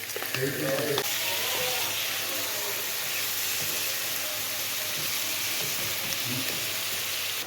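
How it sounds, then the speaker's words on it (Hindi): Chicken frying in a pan on a cylinder gas stove: steady, loud, dense sizzling throughout, with a brief spatter burst at the start as the pieces go in, close and continuous without talk. "अब ये चिकन डाल देंगे।"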